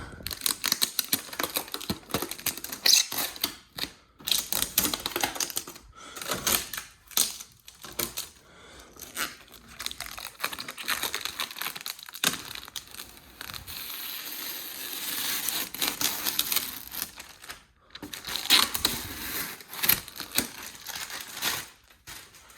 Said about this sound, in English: So now we can do the fun part of peeling all of this off of this unit here.